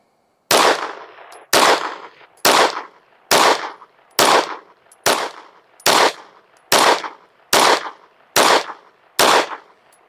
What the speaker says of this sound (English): Let's shoot another group at the middle left target.